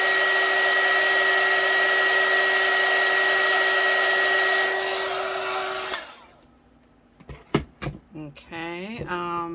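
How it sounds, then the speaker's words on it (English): A hot air gun blows a steady, loud whirring hiss over UV resin for about six seconds and then switches off, followed by faint handling clatter and a voice. "I have to get my hot air gun out"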